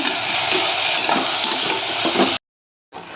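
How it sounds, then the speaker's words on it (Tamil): Mutton frying in oil in a pan, a steady loud hiss and sizzle with faint stirring, cutting off abruptly and then resuming briefly. "நம்ம கழுவி வச்சுருந்த மட்டனை வந்து உள்ளே போட்டுடலாம் நல்லா இந்த எண்ணெயோடய கொஞ்சம் நேரம் அப்படியே வதங்கட்டும்"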